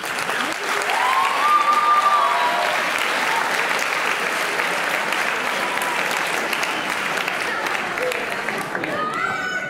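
A crowd applauds steadily and loudly for several seconds, the clapping dense and sustained before fading slightly at the end.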